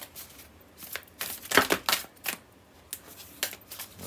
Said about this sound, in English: I'll just keep shuffling the cards